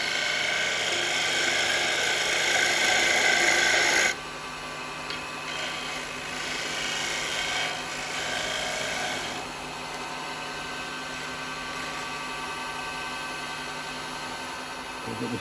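A carbide chisel cutting a small wooden cowboy hat spinning on a lathe, a continuous whirring, scraping hum that shifts in tone as the cut changes, with the motor drone steady underneath.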